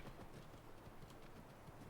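A horse's hooves clip-clop in Skyrim, a steady, faint stream of quick hoofbeats without any voices.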